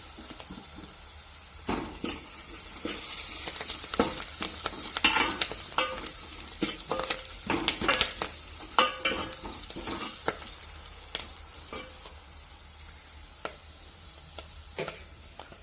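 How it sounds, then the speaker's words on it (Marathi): Ground black masala with turmeric and curry leaves sizzles as it is sautéed in a pan, a steady frying hiss broken by repeated stirring scrapes and clicks from start to finish, with no voices over it. "जो वाटलेला काळा मसाला आहे का तो मसाला पण त्याच्यामध्ये परतून घ्यायचा थोडासा"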